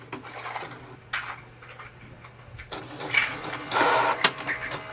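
A Canon TS5051 all-in-one printer runs a copy job, with a low motor hum, mechanical whirs and clicks, and louder paper-feed grinding bursts building toward the end.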